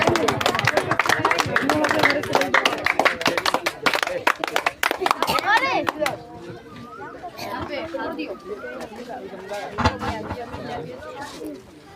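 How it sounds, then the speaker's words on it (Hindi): An audience at a school exam honours ceremony bursts into loud, dense clapping mixed with chatter and children's voices for about six seconds, then the clapping stops and talking carries on. "चलिए तालियां के लिए।"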